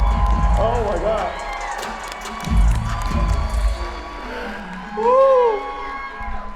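Arena crowd cheering for NBA star Giannis Antetokounmpo, a roaring mass of voices with swelling bursts, heard under nearby excited talk and shouting.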